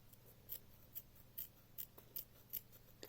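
Fabric scissors trim cloth close to a row of smocking stitches, cutting in quiet, evenly spaced crisp snips, close up and faint, with no talking.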